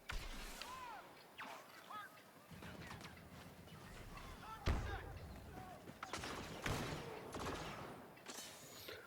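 Gunfire in the Star Wars Battlefront II video game crackles in bursts of blaster-like shots and zaps, layered under someone talking throughout.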